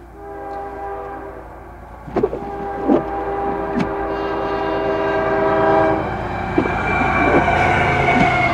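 A Canadian Pacific freight train rumbles steadily past through snow, loud and close, with sharp clanks and wheel bangs over the track and a rising roar as the cars roll by.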